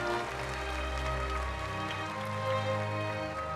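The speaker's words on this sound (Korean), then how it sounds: "박수 부탁드립니다" Applause from the audience at a Korean Liberation Day ceremony as a posthumous independence award is presented to a descendant, a dense, even clapping that continues steadily at moderate volume throughout.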